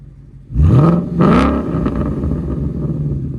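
Low idle suddenly jumps into two loud revs from a 2016 Ford Mustang GT 5.0L V8 with Flowmaster X-Pipe and valved exhaust open, each rising and falling before the exhaust rumbles steadily again.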